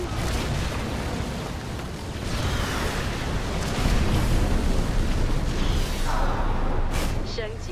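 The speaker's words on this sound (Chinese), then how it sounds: "这场爆炸撼动我的内心" A heavy explosion in a StarCraft II co-op mission, a sustained loud rumbling roar that swells around the middle and trails off, with game voices speaking over it.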